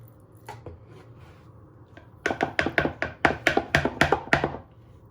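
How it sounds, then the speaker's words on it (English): Spoon tapping against a mixing bowl while Greek yogurt is scooped in, about a dozen quick sharp knocks in an uneven rhythm after a quieter start. "You put 2 teaspoons of Greek yogurt, in a mixing bowl."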